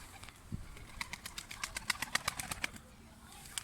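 Wings flap in a quick run of soft beats as pigeons take off and fly overhead, against faint outdoor background noise.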